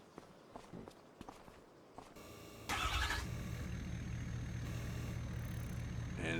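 A farm truck in Farming Simulator 25 starts up after a few footsteps, with a sharp cranking burst giving way to a steady low engine idle that runs on alone.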